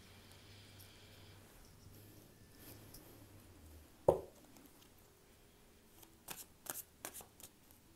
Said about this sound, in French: Le temps que je vous tire vos cartes